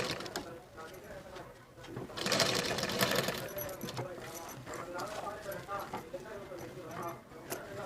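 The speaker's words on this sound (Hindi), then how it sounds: "उसी पे रखकर इस लेस को हम स्टिच करेंगे" A sewing machine stitches lace onto a blouse, its rapid mechanical chatter coming in clustered bursts with short pauses between runs, heard close up while someone talks over it.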